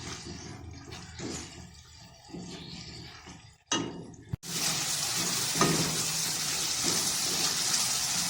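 Minced meat frying with crushed black pepper sizzles steadily and close, after a few clattering stirs and a sharp knock, and then settles into a loud, continuous hiss.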